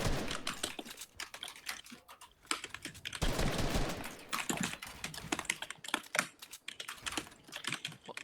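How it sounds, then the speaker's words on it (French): Rapid, uneven clatter of computer keys being typed, close and continuous, with bursts of heavier key strikes throughout. "désolé les gars pour le bruit du clavier de Xélion"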